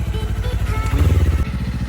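A motorcycle engine chugs with a steady rapid pulse close by while being ridden in Japan, the throttle briefly rising in the middle; faint voices may sit underneath.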